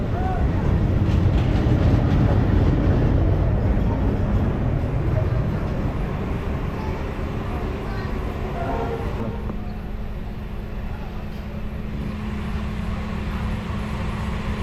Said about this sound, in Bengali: তো এই হচ্ছে ট্রেনের ভিতরে